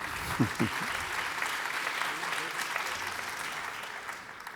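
An audience at a jazz concert claps in a dense, steady wave of applause with a couple of louder hits early on, tapering slightly toward the end.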